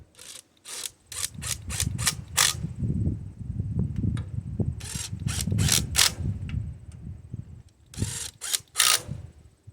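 A 20 volt Hyper Tough impact driver tightens cylinder head bolts on a 17 horsepower Briggs engine, firing in short, sharp rattling bursts separated by pauses, close and loud, over low handling noise.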